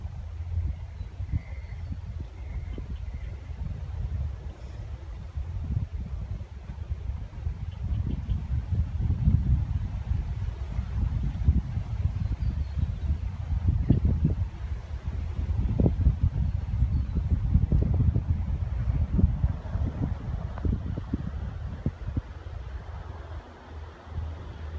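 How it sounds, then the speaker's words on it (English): Strong wind on a very windy day buffets the microphone outdoors in a horse paddock, a continuous low roar that rises and falls in gusts and grows louder midway, with no talking. "It's very windy"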